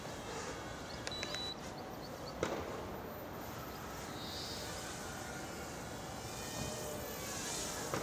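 An Eachine 3D-X4 quadcopter drone flies outdoors, its small motors making a thin, insect-like whine at a distance that holds steady for several seconds with a few faint clicks.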